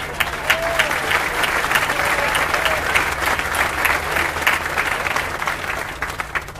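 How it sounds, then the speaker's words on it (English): Crowd at a groundbreaking ceremony for a DC United stadium applauding, a sustained dense round of clapping at even loudness throughout, outdoors with a faint low hum beneath. "But we do owe Jack a big round of applause"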